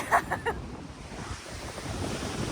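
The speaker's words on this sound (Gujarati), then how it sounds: "બહુ પવન છે ને, બહુ અવાજ છે" Loud, constant wind rushing and buffeting outdoors, with a few brief tonal chirps at the start.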